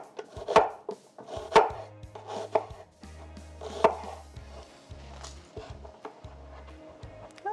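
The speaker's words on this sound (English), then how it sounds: "slice them up." A knife slices peeled potatoes for pierogi on a cutting board, with about five crisp, separate chops spaced irregularly and a low hum underneath between them.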